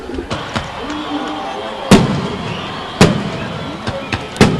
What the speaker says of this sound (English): Fireworks it's almost like the 7th of February here